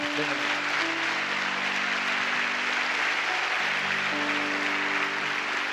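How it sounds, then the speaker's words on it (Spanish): A church congregation applauds during a sermon, steady broad clapping throughout, with sustained organ or keyboard tones running underneath. "Dele un aplausazo a Dios."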